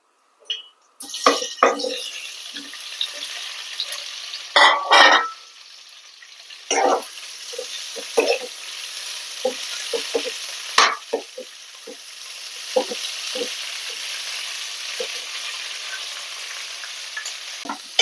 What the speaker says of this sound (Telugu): ఈ ఆయిల్లో ఈ కప్సికమ్ ని ఫ్రై చేసుకుందాం